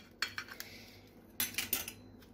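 Metal pizza cutter rolling and clicking against a plate while slicing a homemade no-dough pizza, a few short close scraping clinks in two bursts.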